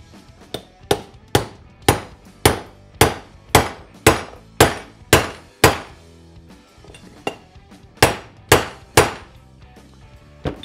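A driver tool taps a needle bearing into a Triumph motorcycle transmission case, giving a series of about fifteen sharp metallic hammer blows at a steady rhythm with a short pause partway through.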